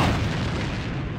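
A grenade explodes in the video game Alliance of Valiant Arms, a single loud, close, broadband blast that fills the moment and decays with rumble.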